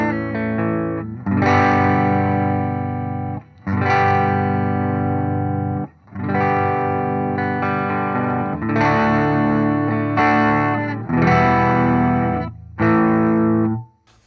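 Electric guitar through a Redbeard Effects Angry Rhubarb overdrive pedal with the pre-gain raised, heavy distorted chords ringing in long loud strums separated by brief gaps, close and full, with no talking.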